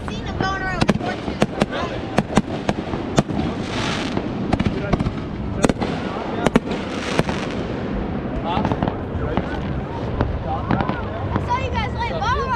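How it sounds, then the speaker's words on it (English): Bottle rockets and fireworks going off outdoors in a rapid string of sharp cracks and pops with whistling launches, loud and close, while people talk and cheer over them. "I saw you guys light bottle rockets off."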